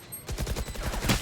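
Rapid gunfire in a shooting video game, a quick burst of repeated shots lasting about a second at moderate loudness.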